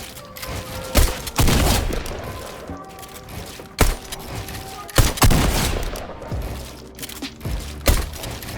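Gunfire in Fortnite during building and editing practice, several sharp loud shots at irregular intervals over busy game noise, close and punchy with no talk.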